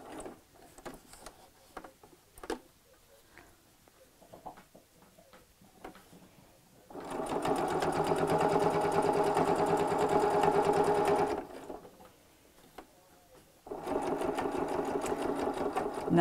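A sewing machine top-stitches a chenille clutch bag, running in a fast, even whir for several seconds, stopping, then starting again. Soft handling clicks fill the quiet gaps between runs.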